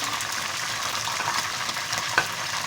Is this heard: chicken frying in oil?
yes